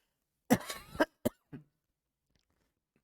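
A short fit of several close, sharp coughs comes in quick succession, then quiet.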